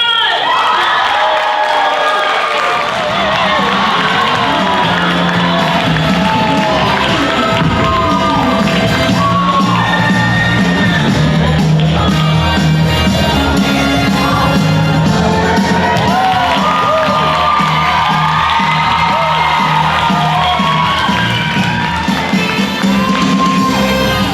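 Audience at a high school Asian Night show cheers, shouts and applauds to welcome comedian Jacob Deleon, a loud, dense crowd roar holding steady throughout, with children's shrieks rising above it.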